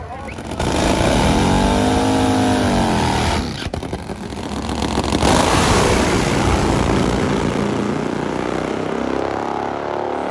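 Top Fuel nitro drag racing motorcycles, Import vs Harley, roar down the strip at over 260 mph: a loud engine howl sweeps in pitch, then a second blast follows, with a commentator talking over it.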